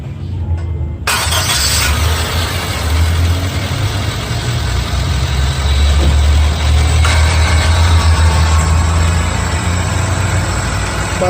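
A Honda Brio engine idling with a steady low rumble, loud and close, running continuously after a brief start at the beginning, checked for rough or knocking sounds.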